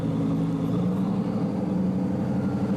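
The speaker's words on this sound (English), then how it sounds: "It sounds amazing with the Mansory exhaust system." A supercar fitted with a Mansory exhaust system runs close by, its engine holding a steady, deep, throaty idle rumble with no voices over it.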